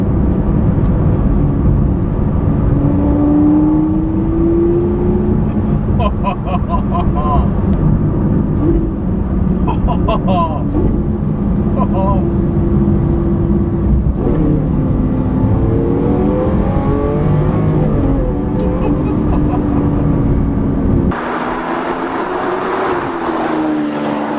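A Lamborghini V10 exhaust in Sport mode drones loud and steady, with rising and falling revs over half a minute while someone talks over it inside the cabin.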